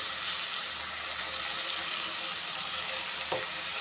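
Bottle gourd sautés in a pan for chutney with a steady, even sizzle and a soft hiss throughout, and one brief utensil knock near the end.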